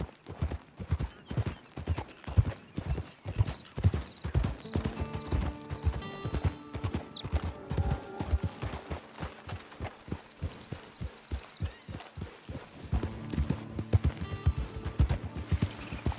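Horse hooves clip-clop in a steady walking rhythm in Red Dead Redemption 2, close and clear throughout, with soft background game sounds layered in partway through.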